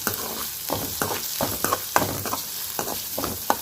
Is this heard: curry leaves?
yes